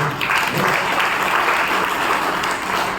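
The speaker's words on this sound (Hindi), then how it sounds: "सभी भाइयों और माताओं के लिए जरा जोर से तालियां बजाइए।" Audience at a spiritual talk clapping loudly together, a dense, sustained burst of applause that fills the whole stretch at even strength.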